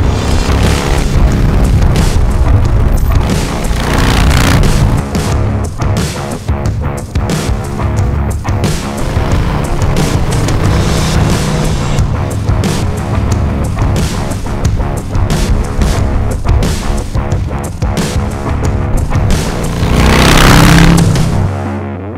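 A Harley-Davidson Heritage Softail Classic motorcycle rumbles loudly and continuously while being ridden, its engine note rising and falling with throttle against heavy wind buffeting.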